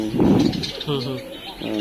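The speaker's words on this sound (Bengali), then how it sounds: "কবুতরেরও এত জাত আছে দেখ এক একটা কবুতর একদম মুরগির সমান বড়" Pigeons of various breeds, some as large as chickens, coo in cages with low, rolling burbles. Speech runs over the cooing.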